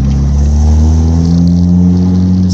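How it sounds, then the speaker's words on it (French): A car engine hums loudly and steadily from start to finish, its low drone swelling slightly as the motor revs, with no voices present. "Ça, vous allez entendre un peu le bruit du moteur."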